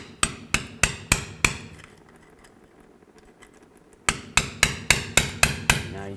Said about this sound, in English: Now I'm going to take a pry bar, or you can use a straight blade screwdriver and just a hammer.